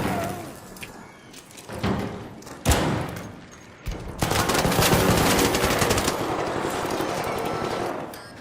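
Gunshots in the Arc Raiders video game: scattered single cracks and thumps early on build into a long, loud stretch of rapid automatic fire that continues to the end.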